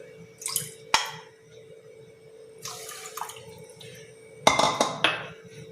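Water is poured into a metal pot holding two bowls of sugar to make syrup for chandrakala gujiya, splashing and dripping in short bursts with clinks of the vessel between quieter pauses.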